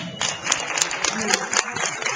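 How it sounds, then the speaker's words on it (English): A live audience at a talk gives a short round of applause for the parents in the room, a brief burst of scattered clapping at moderate volume with some murmuring mixed in. "Round of applause, parents."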